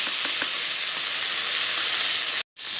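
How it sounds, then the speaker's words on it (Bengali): Cumin paste going into an onion, ginger and garlic masala frying in a pan for a tok jhal mishti fish curry, a loud steady sizzle with a few soft stirring taps, cut off abruptly near the end. "এবারে দিয়ে দিচ্ছি জিরে বাটা।"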